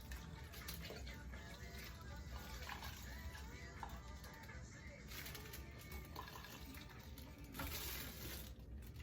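Homemade marinade pours over a holiday turkey, a steady wet splashing and trickling of liquid that runs throughout while a person talks over it.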